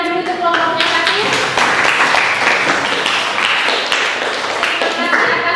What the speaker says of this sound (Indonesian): Kita beri tepuk tangan dulu untuk kelompoknya Fatir.